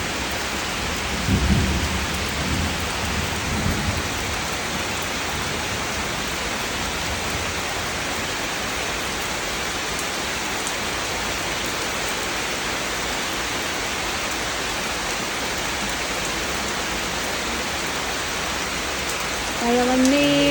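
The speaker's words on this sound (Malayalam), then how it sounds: "മഴ വന്നേ." Summer rain pours steadily over a rural home garden in Kerala, a dense continuous hiss with a low thunder rumble near the start and a few faint tones toward the end.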